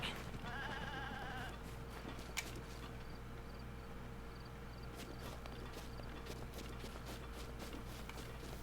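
Goat bleats from Zelda: Breath of the Wild, heard on a mountainside over a steady game ambience hum, with soft hoof clops and footsteps scattered through, no talk.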